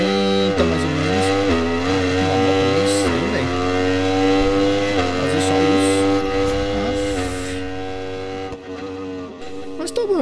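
Aprilia Tuono V4 1100 Factory motorcycle engine in the Ride 4 racing game, a loud steady high-revving whine with stacked harmonics that shifts pitch through gear changes, continuous throughout.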